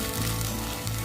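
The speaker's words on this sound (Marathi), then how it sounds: "वाटप जे आहे आपल्याला चांगलं असं फ्राय करून घ्यायचं आहे या टोपामध्ये" Ground masala paste sizzles in a cooking pot for a Malvani-style surmai fish curry, a continuous close frying hiss with a low steady hum beneath.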